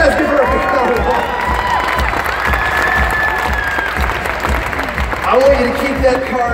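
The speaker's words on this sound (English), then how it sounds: "You guys give her a big round of applause." A large arena crowd at a Winter Jam 2017 concert breaks into sustained applause with scattered cheers and whoops, a steady dense clapping wash that continues under a voice talking over it.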